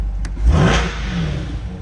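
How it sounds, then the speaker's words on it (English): A 2023 Corvette convertible's engine revs hard with a rising, throaty roar, then settles into a loud, steady growl close by. "let's give it a couple revs"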